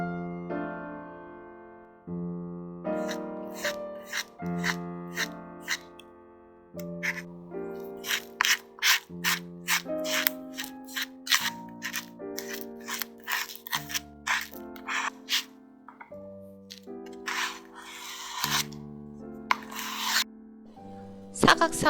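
Palette knife mixing acrylic paint with a texture medium, giving sticky, scraping, gritty strokes in quick irregular bursts, close up, over sustained piano-like music tones.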